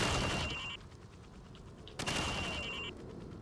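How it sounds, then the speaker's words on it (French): Game gunfire from a PS3 title as targets are shot, two loud bursts of shots with a sharp crack near the two-second mark, crisp and close with no talking. "Maintenant, tire sur toutes les cibles en utilisant la mire."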